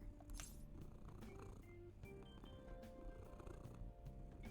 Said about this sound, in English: He is purring.